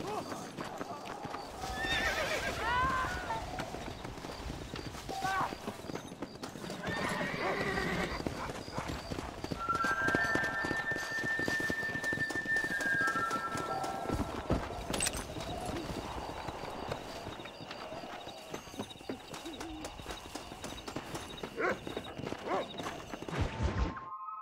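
Horses in the Red Dead Redemption video game clop along at a steady trot and let out several whinnies, heard close and loud over continuous game ambience, with a brief lull midway and sustained tones near the end.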